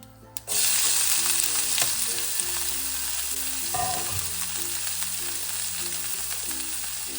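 Loud, steady sizzling as chopped onion, garlic and green chili hit hot oil with popped mustard seeds and keep frying, with a few clinks and stirring noises over the hiss.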